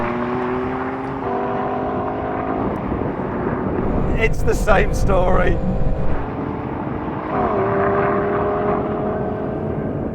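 BMW M2 fitted with a fully tuned M4 Competition engine, accelerating hard in a drag race against a Mercedes A45; a loud continuous engine roar builds and surges through gear changes, with someone talking over it.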